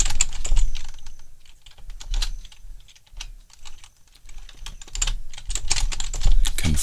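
A password being typed on a computer keyboard comes through as a steady run of quick, close key clicks with short uneven pauses, no voice over them.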